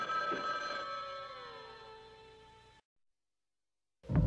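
A telephone bell rings loudly in one long sustained peal that slowly fades. It cuts to silence, then another burst of sound starts at the end.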